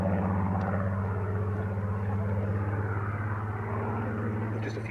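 Multiple Hurricane and Spitfire fighters fly overhead in the Cambridgeshire sky. Their piston engines give a steady, droning rumble that holds at the same level throughout, with no voices.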